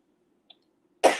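A single short cough bursts out close by after near silence, preceded by a tiny faint click.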